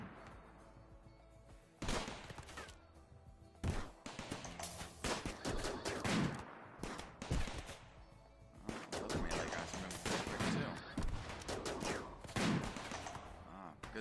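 Rimworld Alpha 15 combat: an automated turret and a sniper rifle fire in repeated rapid bursts and single cracks, loud and close, clustering into dense volleys with short pauses between.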